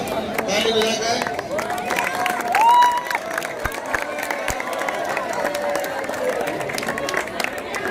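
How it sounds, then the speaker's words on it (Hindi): Crowd clapping and cheering at the opening ceremony of a box cricket tournament in Sambhal, a loose outdoor burst of applause mixed with voices and general crowd noise. "बहुत बढ़िया, ताली बजाकर"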